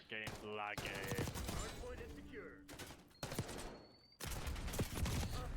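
Pistol gunfire in the Black Ops 6 video game, a rapid burst of close, loud shots amid dense game action, with someone talking over it.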